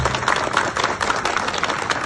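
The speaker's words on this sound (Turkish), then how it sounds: "Efendim şöyle bir kuvvetli bir alkış alalım da çiftimizin heyecanı gitsin" Wedding guests applaud at a civil marriage ceremony in Gaziantep, a dense, lively burst of many hands clapping close by, sustained for the whole stretch with faint voices mixed in.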